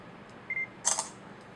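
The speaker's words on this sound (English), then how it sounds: "Pretty quick shutter speed." A Samsung Galaxy Victory phone camera gives a short electronic beep, then a single crisp simulated shutter click, both faint and isolated in a quiet room.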